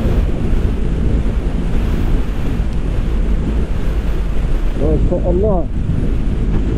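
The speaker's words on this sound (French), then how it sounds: "Le vent il est en train de pousser mon pote." Strong wind roars steadily into the helmet microphone during a motorbike ride through sand, a loud, continuous buffeting rush throughout, with a man's brief exclamation near the end.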